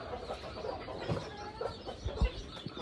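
Chickens clucking on a small farm, a few soft, close clucks scattered over faint background noise.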